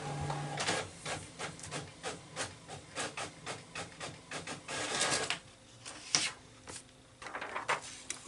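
A printer printing on vellum runs nearby, with repeated sharp mechanical clicks and short whirring passes in an irregular rhythm, punctuated by soft rubbing and a few louder clunks.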